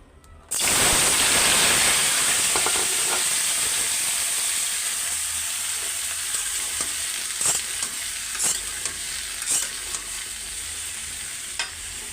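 Cut pumpkin pieces for a Bengali bhaji hit hot oil in a pan with a sudden loud sizzle that slowly settles into steady frying, broken by scraping stirs of a spatula near the end, with no talking.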